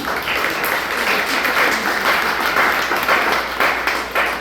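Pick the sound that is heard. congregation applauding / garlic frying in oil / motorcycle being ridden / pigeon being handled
congregation applauding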